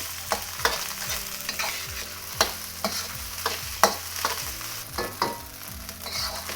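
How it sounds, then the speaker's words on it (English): Egg fried rice with Chinese sausage is stir-fried in a pan, making a steady sizzle broken by repeated scraping and tossing strokes of the spatula at an uneven rhythm, close and without talking. "we're gonna cook the rice until it dries out even more"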